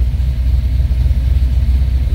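A warmed-up car engine idles at about 1,000 RPM, a steady low rumbling hum with a slight regular pulse, loud and close throughout the short stretch with no talking.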